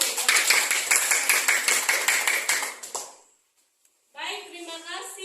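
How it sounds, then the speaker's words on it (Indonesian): A group of students clapping hands together in a class: brisk, rhythmic claps for about three seconds, then a pause before a voice begins speaking. "Tepuk tangan dulu."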